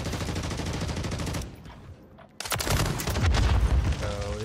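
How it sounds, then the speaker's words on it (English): A very heavy sniper rifle in the video game Modern Warfare 3 fires in loud, dense bursts of sharp reports. A short quiet gap breaks the firing before it resumes even louder. "Sounds like a very heavy, extremely heavy sniper."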